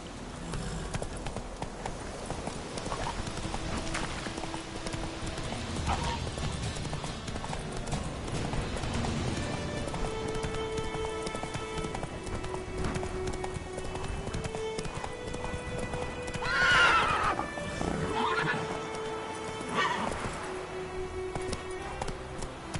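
Roach the horse gallops in a video game, hooves clip-clopping in a steady quick rhythm close up, with background music tones and a short whinny-like burst near the end.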